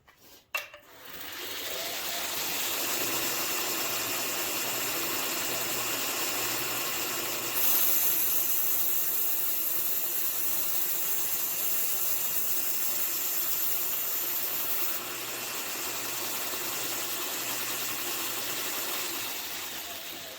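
Knife edge sharpened on a grinding belt, a steady whirring hiss of the running belt that holds evenly for many seconds with a brief shift partway through.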